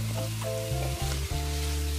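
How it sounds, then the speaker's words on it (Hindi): Kebabs are stirred and mixed in a sizzling pan, giving a quiet, steady frying hiss broken by a couple of short clanks, with a low mechanical hum running underneath. "फिर आप कबाब डाल के उसको अच्छी तरह से मिक्स करें।"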